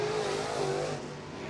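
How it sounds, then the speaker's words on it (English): Late model race cars circling a racetrack during a WinterNationals event, a steady moderately distant engine drone with a tonal whine that slowly shifts pitch as the cars pass. "These are the cars on the racetrack here."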